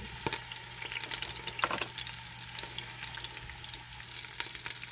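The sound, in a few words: onions frying in a pan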